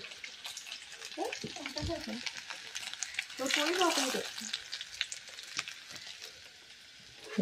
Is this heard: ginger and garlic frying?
yes